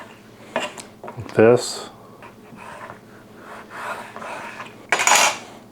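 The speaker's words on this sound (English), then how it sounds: "just to cut it up a little bit so it looks a little neater" Knife cutting prepared deer skin into neater pieces on a hard surface, giving several short clattering scrapes with a louder burst at the end, while a voice speaks briefly.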